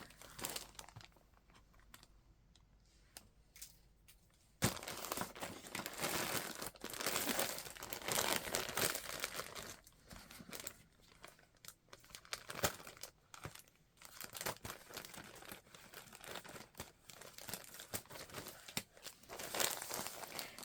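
A bag of fabric and lace trims is handled and crinkled up close, a dense, steady plastic rustle and crunch that starts quietly and turns loud and continuous after a few seconds, with no talking.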